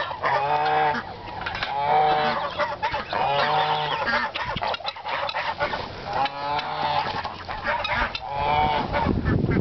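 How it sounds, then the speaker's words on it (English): Geese kept among fighting birds honk repeatedly in loud, nasal bursts, a small flock calling in irregular overlapping phrases at close range with no talk. "geese"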